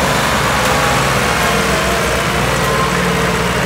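Three tractors, one a 385, haul a fully loaded trolley up a steep slope, their engines droning loud and steady at close range with no talk.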